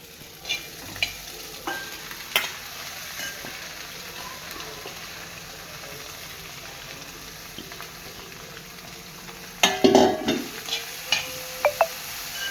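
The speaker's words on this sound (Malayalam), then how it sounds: "നമുക്കൊന്ന് ഇളക്കി കൊടുക്കാം" Egg and thazhuthama leaf thoran with ground coconut stirred in a pan: a quiet, steady cooking hiss with a few scattered knocks and scrapes, then a brief burst of louder clatter near the end.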